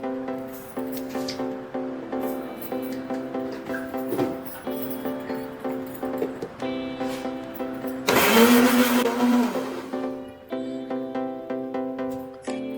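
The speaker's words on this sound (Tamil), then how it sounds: "ஒரு மிக்ஸி ஜார்ல சேர்த்துட்டு அது கூடவே 3 ஸ்பூன் அளவுக்கு சர்க்கரையும் சேர்த்து நல்லா அரைச்சு எடுத்துக்கலாம்" A mixer grinder blending muskmelon with sugar whirs loudly in a short burst of about two seconds, sharp and close, over an otherwise steady tonal background.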